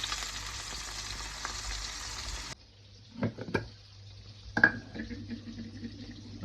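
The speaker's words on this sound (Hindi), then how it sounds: "आलू थोड़ा सा फ्राई कर लेंगे हम लोग" Potatoes frying in leftover fish oil in a kadai, a steady hiss that cuts off abruptly partway through, followed by quieter sizzling with scattered clinks and stirring knocks at close range.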